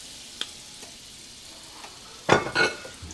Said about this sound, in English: I'm just going to throw a little butter in there